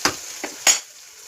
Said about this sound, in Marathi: ती जरा कडवटपणा जावा म्हणून थोडी तेलामध्ये परतत आहे